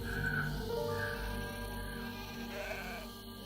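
Lambs bleating, several drawn-out wavering calls overlapping at moderate distance over a steady low background hum, with no talk.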